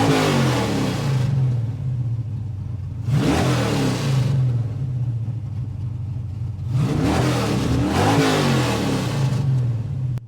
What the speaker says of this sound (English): Let's listen to the noise of the car.